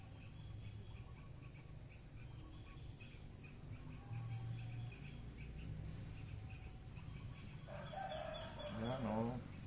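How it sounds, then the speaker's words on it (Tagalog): Roosters and other birds call around a rural farm where papaya seedlings are being planted, with a rooster crowing near the end over a steady bed of crickets and faint distant chirps. "Yan ang tunog ng mga ibon dito sa amin."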